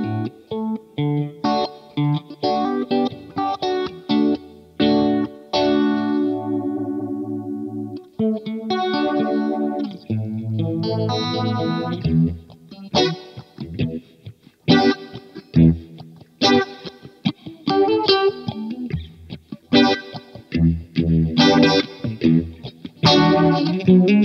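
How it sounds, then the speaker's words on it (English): An electric guitar runs through a Way Huge Smalls Attack Vector phaser pedal, giving swirling, sweeping phased tones on chords and choppy funky strums, with bursts and pauses played up close and no talking. "You just get some pretty standard phaser sounds out of it."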